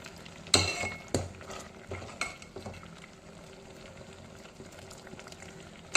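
A homemade gray-hair remedy mixture thickens and turns black as it boils down in a pan, giving a low steady bubbling with a few sharp clinks of a utensil against the pan near the start.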